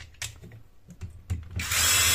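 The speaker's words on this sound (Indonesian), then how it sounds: "Kita pasang 3 baut penghubung antara bodi yang logam dengan yang plastik" Connecting bolts being driven with a power driver into the metal and plastic body halves of a Laxton LX-55 20V brushless cordless mini circular saw: several short clicks and taps, then a loud whirring burst at the end.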